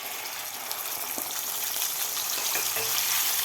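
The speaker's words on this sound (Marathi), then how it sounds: "तेल आपलं गरम झालेलं आहे. तर यामध्ये आपल्याला बनवून घेतलेला मसाला घालायचा आहे." Homemade masala for a village-style egg curry sizzling in about three ladles of hot oil in a pan, a steady dense crackle that holds throughout with a few brief stir scrapes.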